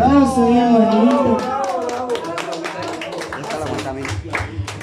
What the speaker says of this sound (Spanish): El aplauso, bien bonito.